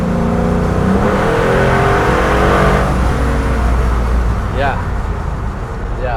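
A 1977 Ford F100 truck with a swapped Coyote V8 engine accelerates hard from inside the cab, a loud rising engine roar climbing through the revs before easing back, with someone talking at the end.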